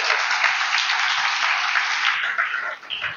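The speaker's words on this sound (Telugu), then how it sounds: "క్లాప్స్ కొట్టు గట్టిగా" Church congregation at a field training programme clapping hard on cue, a sustained, bright wash of applause that holds steady and then tapers slightly near the end.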